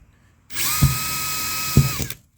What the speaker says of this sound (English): just grab our 3/16 drill bit